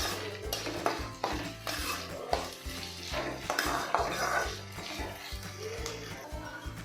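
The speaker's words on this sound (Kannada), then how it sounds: "ಆನಿಯನ್ ಫುಲ್ ಸಾಫ್ಟ್ ಆಗೋವರೆಗೂ ಚೆನ್ನಾಗಿ ಫ್ರೈ ಮಾಡ್ಕೋಬೇಕು." Onions frying in a pan for egg curry, a steady sizzle broken by repeated scraping and clinking of a spoon stirring against the metal, close and fairly quiet with no voices.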